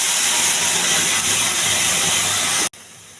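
Cluster beans tip into hot tempering oil with red chillies, chana dal and cumin, setting off a loud, steady, hissing sizzle that cuts off abruptly near the end.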